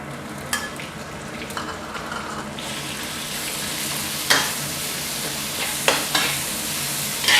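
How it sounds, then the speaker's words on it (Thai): Aromatics and then ground pork stir-frying in a pan for a long eggplant dish, a steady close sizzle punctuated by several sharp spatula clacks and scrapes against the pan; no one speaks. "ผัดจนหอมก่อนนะครับ จากนั้นตามด้วยหมูบดนะครับ"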